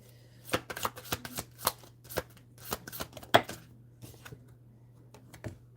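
A deck of tarot cards is shuffled by hand nearby, giving a quick series of sharp riffling snaps and soft slaps in irregular bursts over a quiet background hum.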